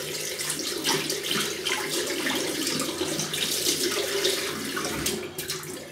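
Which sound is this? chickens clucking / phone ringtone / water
water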